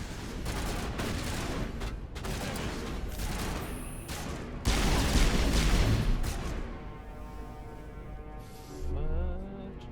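Heavy gunfire from a Mass Effect Legendary Edition battle, dense bursts of shots and booms rolling loudly through the whole stretch, with a brief louder blast near the end.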